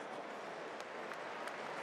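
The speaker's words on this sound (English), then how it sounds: "Now the players giving the fans a round of applause" Players applauding fans at the end of team training in the Allianz Arena, a steady distant wash of clapping filling the whole moment with no voices on top.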